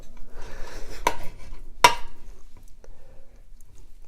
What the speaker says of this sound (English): once you're up against the bone, all you do is you hit your knife.